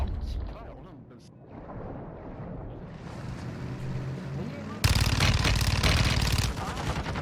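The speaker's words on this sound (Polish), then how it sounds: "Łódka, łódka, łódka." In a Warzone 2.0 match, a boat engine drones while gunfire bursts out loudly near the end, with players talking over the noise throughout.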